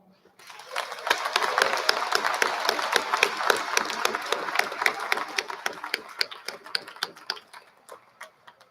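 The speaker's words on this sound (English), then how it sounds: "Let us applaud them." A commencement audience at Governors State University applauds its graduating students: sparse claps quickly build into a loose, crackling round of applause that thins into a few scattered, distinct claps toward the end.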